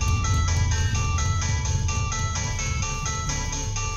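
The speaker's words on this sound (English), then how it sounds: "My phone's going off." A mobile phone ringing through a steady electronic melody that repeats without pause, loud and continuous over background game sound during a Dead by Daylight session.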